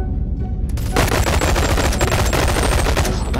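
In the VR game BONELAB, a newly found gun opens up after a short quiet moment with loud, rapid automatic fire, a dense unbroken stream of shots that continues to the end.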